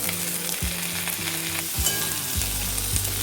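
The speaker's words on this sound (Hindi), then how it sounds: "अब हम इसमें डालेंगे कटे हुए कैप्सिकम।" Chopped capsicum frying in a pan with chilli soybean, cooked restaurant style: a steady, close sizzle under a spatula stirring and scraping at a regular rhythm.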